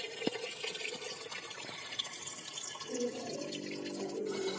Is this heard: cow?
no